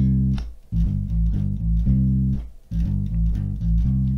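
Bass guitar plays a looped soul riff in C, with clear, rhythmic low notes that stop briefly before the riff repeats, heard close and alone.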